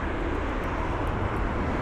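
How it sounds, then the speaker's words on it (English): A United Boeing 777-200 jet on the ground at London Heathrow gives off a steady, continuous broadband roar that stays even and unbroken throughout. "There's a United jet on the ground now."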